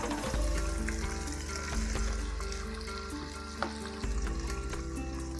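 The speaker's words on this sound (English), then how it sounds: "we need to keep in pieces of fish" Pieces of fish fry in hot oil over a medium-low flame for a Bengali macher jhal, with a continuous close sizzle and crackle and a few faint clinks, no voices.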